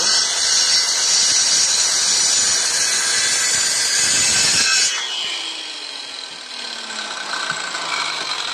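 A circular saw cuts through wood with a loud, harsh, sustained whine for about five seconds, then the blade spins down in a falling pitch as the motor coasts to a stop.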